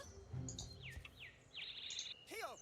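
Bird calls in the Star Stable Online game, a few thin chirps and sweeping whistles, the last one a quick descending trill, heard faint against a quiet outdoor background.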